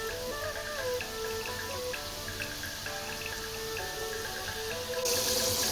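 French fries deep-frying in hot oil over a low gas flame, giving a steady dense crackle and bubbling hiss that runs continuously at close range with no talk.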